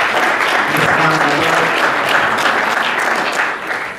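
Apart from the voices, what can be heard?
audience applause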